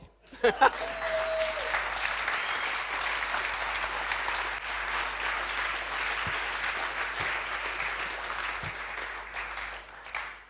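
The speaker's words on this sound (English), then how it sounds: "Now you can applaud." Audience at a museum wrap-up session breaking into applause, a full, dense wash of many hands clapping that starts abruptly and carries on steadily for about ten seconds, fairly loud and close.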